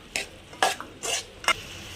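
Turmeric and curry masala being stirred into carrot and beans in a pan, heard as four short scraping strokes of a spoon against the pan, close and alone with a faint sizzle beneath.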